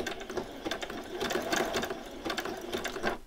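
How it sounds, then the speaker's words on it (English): A sewing machine stitches a t-shirt seam and back-stitches, giving a steady rapid mechanical whir in bursts with brief pauses, close and alone. "then I'm going to do a back stitch"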